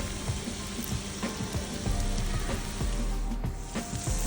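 Chilli chicken sizzles loudly in a hot pan with soy sauce and vinegar, a steady crackling fry with small pops throughout, up close and without talk.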